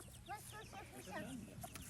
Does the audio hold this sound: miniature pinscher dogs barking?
no